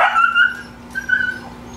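A pet dog lets out a sharp bark followed by a second, softer yelp and whine, close and clear in a quiet indoor room, upset at being refused Doritos.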